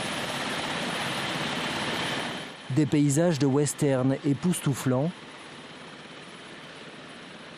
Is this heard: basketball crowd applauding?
no